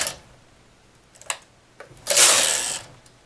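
A knitting machine carriage runs across a row of yarn in short-row work, with a few light clicks and then a brief loud whooshing rattle of the carriage pass, close up.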